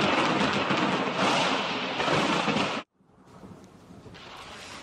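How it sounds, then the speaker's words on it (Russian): A night thunderstorm rolls overhead with loud, sustained thunder and heavy rain roar, which cuts off abruptly and gives way to quieter steady rain and wind. "От мощных раскатов грома выли машины."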